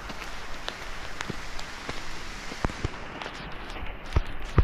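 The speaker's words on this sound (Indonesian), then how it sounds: "Ini hujan." Rain falls steadily on an oil palm plantation, a dense continuous hiss broken by scattered sharp drips and taps of drops hitting leaves and fronds close by.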